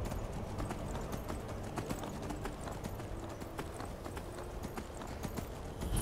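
Horse hooves clip-clop at a steady trotting rhythm in the Skyrim video game, a close, continuous pattern of hollow knocks over faint background ambience.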